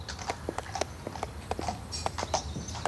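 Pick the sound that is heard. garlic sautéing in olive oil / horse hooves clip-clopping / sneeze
horse hooves clip-clopping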